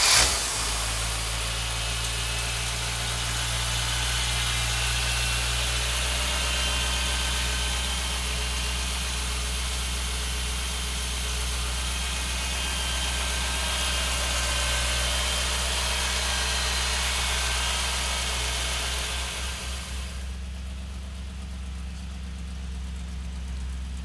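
A 1957 Chevrolet 210 engine idles steadily and loudly for about twenty seconds with a deep, even rumble, then the sound drops off sharply near the end, leaving a quieter hum.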